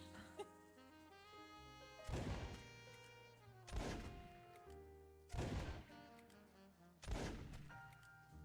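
Four loud gunshots from a gun being tested in a video game, fired at an even, unhurried pace, each one booming and ringing out over a steady tonal background.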